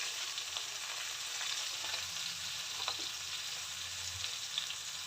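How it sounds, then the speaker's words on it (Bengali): Chili and coriander powders fry in a pan with a little water for a bhola fish curry, giving a steady, close sizzle with faint stirring scrapes and no talking. "এবার মশলাটাকে কষাবো।"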